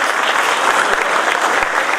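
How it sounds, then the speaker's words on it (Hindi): Loud, close applause from a crowd at an Ambedkar Jayanti event, dense and continuous clapping at an even intensity throughout. "जोरदार तालियों से सबका स्वागत करें।"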